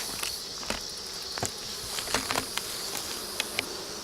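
Swarm of honey bees buzzing just in front of a hive after a first-year honey harvest, a steady close drone with individual bees flitting past the listener in brief louder passes.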